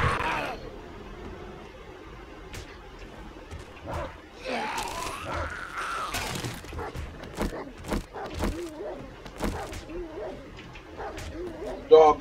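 Dog in the survival game 7 Days To Die giving scattered barks and snarling growls at moderate distance, among footsteps and thuds, with a person talking over parts of it.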